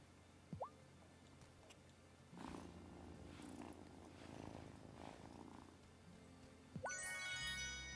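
A cat purrs in the video game Wylde Flowers, a soft low rumble rising and falling in gentle bursts, framed by short game chimes and tones at the start and end.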